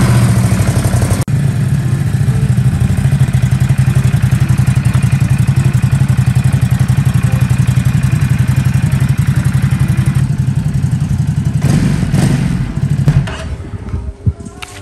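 A Ducati superbike engine runs steadily and loudly at a low, throbbing idle for most of the span, then gives a brief rougher surge near the end before settling.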